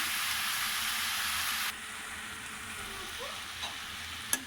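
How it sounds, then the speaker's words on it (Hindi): Aloo matar gajar mixed vegetable curry frying in a pot, a steady close sizzle that drops quieter partway through as it is stirred, with a few faint clinks near the end. "सालन हम भून रहे हैं।"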